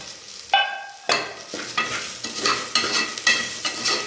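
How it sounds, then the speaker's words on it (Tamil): Fennel and cumin seeds frying in a hot pan while being stirred: crackling sizzle broken by repeated scraping strokes of a spatula, close and fairly loud, with no voices. "சோம்பலும் சீரகமெல்லாம் போட்டு கொஞ்ச நேரம் இருந்தால் போதும்."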